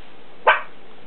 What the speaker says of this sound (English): they're barking at a kitty scratching at the window